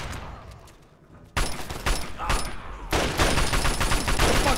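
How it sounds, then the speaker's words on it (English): Gunfire in Fallout 3 arrives in dense bursts of loud, rapid shots after a quieter opening, the volume stepping up sharply twice as the firing intensifies. "Why are we getting shot?"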